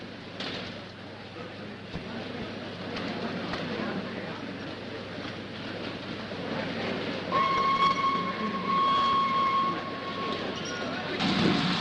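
A train runs steadily on its rails on a 1930s journey toward Constantinople, a continuous low rumble and rattle that swells slightly, with a high whistle-like tone sounding midway and faint voices underneath.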